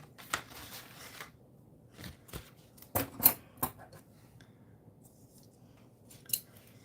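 Scissors snip through paper while cutting out a large mushroom shape for a craft, a few short crisp cuts spaced irregularly with quiet pauses between, close and fairly soft.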